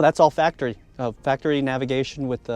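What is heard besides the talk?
No distinct noise like a dog, phone or traffic.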